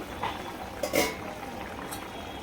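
Ivy gourd tamarind curry bubbles in a pot, a steady close simmer with a few louder pops and spurts of bubbling, no talk.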